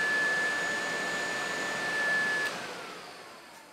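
An electric radiator fan motor on a Honda CX500 motorcycle runs in a steady, close whir with a thin high whine, easing slightly quieter toward the end, with no talk.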